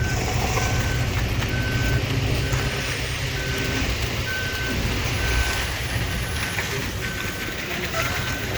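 Concrete truck on a sidewalk construction site reversing, its backup beeper sounding in a regular repeating pattern over loud, constant engine rumble, with no talk.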